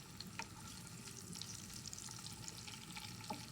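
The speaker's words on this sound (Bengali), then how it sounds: "কিশমিশ এবং বাদামটা ভেজে নেব, যাতে করে একটু আলাদা করে ঘ্রাণ আসে।" Cashews and raisins fry in oil for a khabsa dish, giving a soft, steady sizzle with occasional crackles and stirring scrapes, faint and unaccompanied by speech.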